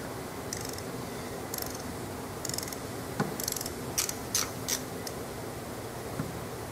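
A hand torque wrench with a built-in ratchet gives a series of crisp, brief mechanical clicks in short bursts, close up against a quiet background, with no talk.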